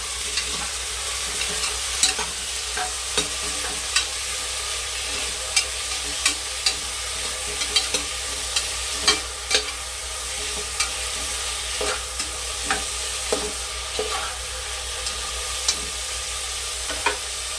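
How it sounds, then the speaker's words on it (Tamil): Chopped tomatoes sautéing in a pan for palak biryani, with a constant soft sizzle and a spoon scraping and stirring in a steady rhythm about once a second, close and alone. "தக்காளி கட் பண்ணி வச்சுருக்கேன். அதை போட்டுக்கலாம். போட்டு நல்லா வதக்கிட்டுக்குவோம்."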